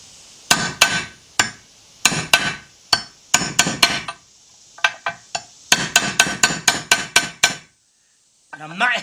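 A hammer taps a 1/2 inch drive thin wall socket during timing chain work on a GM engine, producing quick clusters of sharp metallic knocks with brief pauses, close and fairly loud, with a voice at the end.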